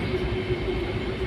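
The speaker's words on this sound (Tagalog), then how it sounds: "Yan ang tren sa taas." An old elevated train rumbles past overhead, a loud, steady low roar with faint rhythmic clatter and no voices over it.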